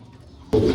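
Breeder cock pigeons in a loft give a single soft, close coo that breaks in suddenly after a moment of quiet.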